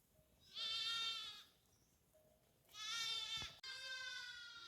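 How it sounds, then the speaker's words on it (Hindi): Hungry lambs and sheep in a forest grazing area bleat loudly as they run toward the flock, with two long, close bleats followed by a third continuing call. "और ये मैं की आवाज़ सुनते हुए दौड़ लगाई है इन मेमनों ने।"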